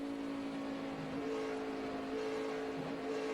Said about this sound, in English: you can hear him just having to pedal that throttle